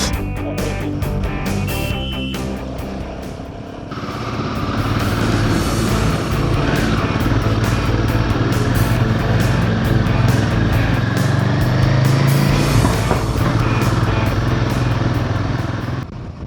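Several adventure motorcycles ride a hill road through the Jawadhu Hills, engines droning loud and continuous close by, revving and swelling as the bikes pass, with rushing wind noise and no talking.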